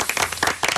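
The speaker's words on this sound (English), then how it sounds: "Round of applause for using one of my favourite words." Quick applause on a live talk radio show, brisk dense clapping in a short burst, close and moderately loud.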